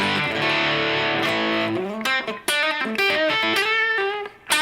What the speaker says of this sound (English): I really like this Tysco Distortion,